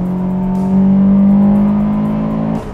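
A Honda Integra Type R engine revs hard and steadily, its drone holding and rising as the car accelerates, loud and close, with no voices.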